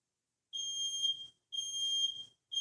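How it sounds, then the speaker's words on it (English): A household smoke alarm beeps while someone cooks nearby, sounding three high, piercing tones, each about three quarters of a second long and spaced at even intervals. "this thing's beeping"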